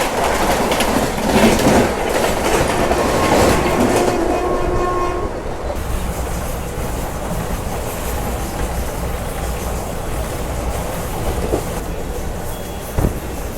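Passenger train at Borivali station on the Mumbai to Ahmedabad line, loud and close, its horn blaring for several seconds before the steady rumble and clatter of the cars rolling past.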